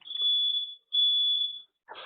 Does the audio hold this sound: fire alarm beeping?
yes